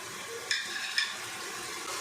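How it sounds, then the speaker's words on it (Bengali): Spice paste of ginger, green chili and garlic frying in a pan: a quiet, steady sizzle broken by two quick utensil clinks. "মশলাটা ভালো করে আমি এখানে ভেজে নিচ্ছি"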